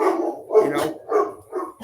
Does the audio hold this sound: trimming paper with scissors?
no